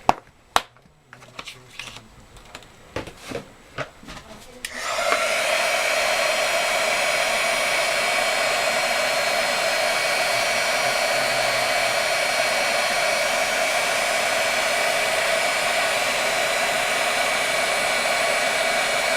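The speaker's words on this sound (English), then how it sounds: "I'll grab my heat tool and we'll quick set that" Several sharp clicks and taps of handling, then a heat tool switches on and blows a loud, steady whooshing hiss for about fourteen seconds, setting embossing powder on a card.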